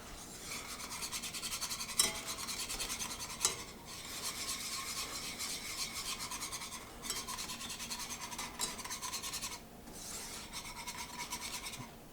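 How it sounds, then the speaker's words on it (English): A whisk scrapes steadily around a pan as cheese is worked into bechamel to make Mornay sauce, a continuous close rasping rhythm with a few brief knocks and pauses and no talking. "we don't want to stop whisking until all of the cheese is melted and emulsified into it"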